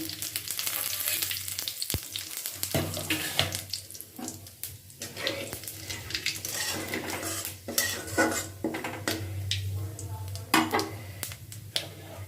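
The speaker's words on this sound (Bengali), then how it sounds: "কড়াইতে তেলটা গরম আছে তেলের মধ্যে দিয়ে দিচ্ছি গোটা জিরে আর দুটো তেজপাতা ফোড়নে" Whole cumin seeds and two bay leaves fry in hot oil in a kadai, a continuous sizzle broken by clinks and scrapes of a spoon against the pan.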